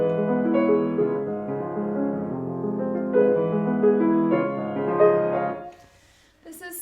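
A solo piano plays Debussy's Clair de lune from the Suite Bergamasque, taking the flowing B section from measure 27. Gentle arpeggiated notes overlap and sustain for several seconds before the sound fades out and a faint voice begins.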